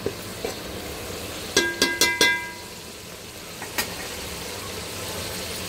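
Paneer biryani masala cooking in a pan over a high gas flame, with a few short bursts of scraping and stirring over a steady background hiss, then quieter simmering.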